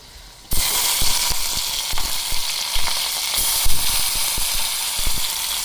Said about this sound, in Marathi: तिथं आता डाळीला फोडणी